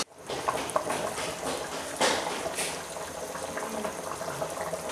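Steady bubbling and hissing of chicken shorba curry boiling in a pot, a continuous close rush of liquid noise with no voices.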